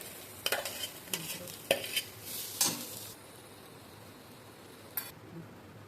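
Ground lentil paste for Gujarati puran filling stirred in a pan, with a handful of sharp scraping and clinking strokes in the first few seconds, then a soft sizzling background and one last scrape near the end.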